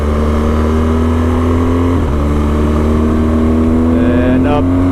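A car engine pulls steadily under throttle on the Lavers Hill-Cobden Road near Crowes, Victoria, Australia, its drone rising in pitch with a brief dip near the middle, heard close and loud from inside the vehicle.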